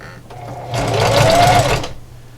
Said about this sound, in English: So I'm going to backstitch at the beginning and the end.